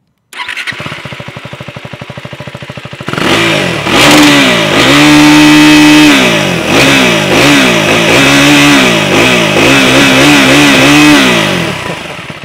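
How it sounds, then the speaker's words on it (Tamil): A KTM 390 Adventure motorcycle engine cranks, fires up and settles into a loud, throbbing idle with repeated throttle blips that rise and fall, close by, with no talking. "ஸோ அந்த சவுண்டு வந்து நம்ம கேடிஎம்கே உரித்தான அந்த ஒரு பீட் வந்து இந்த பைக்கில் வந்து இருக்குது"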